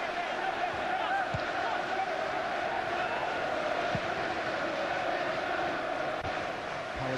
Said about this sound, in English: the crowd have increased the noise level.